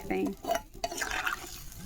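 Water is poured into a cauliflower, potato and rohu fish curry cooking in a pan and stirred, giving short splashy liquid sounds and scraping under a voice talking.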